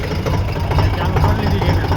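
A tractor engine idles steadily close by after being started, ready to go load wood on a farm; the deep, even rumble carries throughout with a faint knocking texture.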